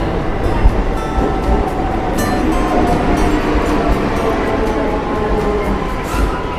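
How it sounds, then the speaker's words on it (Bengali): A train from Howrah arrives at Baruipara station platform, a loud continuous rumble of wheels on rails with metallic rattling and clanking that fills the whole stretch, heard up close without talk. "এই গাড়িটা হাওড়া থেকে আসছে"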